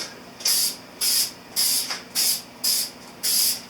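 Black paint sprays in six short, even hissing bursts from a rattle can onto a motorcycle front fender for a 1983 Honda CB1000 custom, close and crisp with brief pauses between passes.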